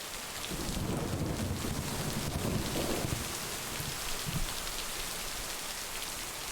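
Heavy storm rain pours steadily in the video game Lake, with dense hiss and patter and low rolling thunder rumbling through the middle, continuous and fairly even.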